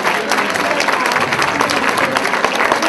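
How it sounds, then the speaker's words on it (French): Guests at an annual brunch give a loud, sustained round of applause after the meal, dense clapping from a crowd filling the room with voices mixed in. "je pense à une bonne main d'applaudissement"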